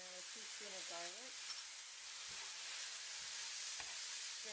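Mushrooms with soy sauce and garlic sizzle quietly in a pan as they are stirred around, a soft steady frying hiss with a brief voice near the start.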